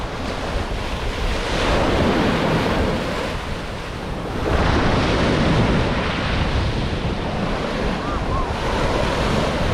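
Sea waves break and wash steadily onto Jomtien beach in Pattaya, a loud continuous surf roar mixed with strong wind buffeting the microphone, swelling slightly midway.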